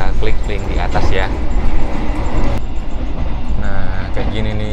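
Interior of an executive-class passenger train travelling at night, with a steady rumble and rattling of the carriage, while people talk over the noise.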